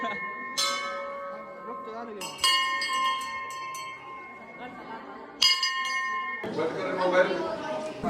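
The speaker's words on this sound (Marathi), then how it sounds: "इथं घंटा वाजवला" A temple bell rings out three times at Sonari temple, each strike bright and metallic with a long shimmering ring, loud and close. Voices and crowd noise are heard throughout, growing busier at the end.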